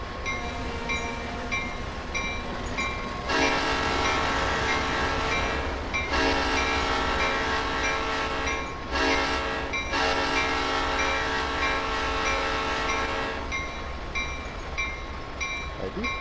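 Western Maryland RS3 diesel locomotive in the Train Simulator game, with a low engine rumble over jointed rail and repeated loud multi-tone horn blasts, two long sounds separated by a short gap, then the horn stops.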